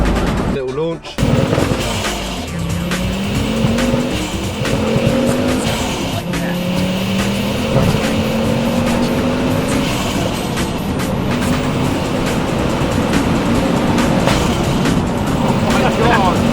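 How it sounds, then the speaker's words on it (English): A 520 hp Ford Focus RS Mk2 with a five-cylinder turbo engine launches hard, a loud, rising rally-car engine note with sharp pops and tyre noise filling the cabin, with a voice heard over it. "this sounds like a rally car here"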